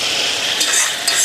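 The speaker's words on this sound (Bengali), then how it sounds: "অল্প একটু জল দিয়ে দিই মশলাটা কষানোর জন্য।" Spice paste with tomatoes and a splash of water, stirred and fried in a pan: a loud, dense sizzle throughout with scraping stir strokes.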